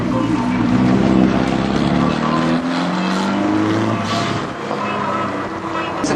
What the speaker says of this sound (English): Harvey coming up now, back in one Nissan 300 CS, keeps it nice and early on that bank